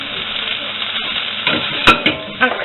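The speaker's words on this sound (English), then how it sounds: "cooking this really quickly without water with steam" Vegetables tossed into a very hot pan with nut oil or butter sizzle and fry steadily, with a few sharper spits and pops toward the end as they cook fast in their own steam.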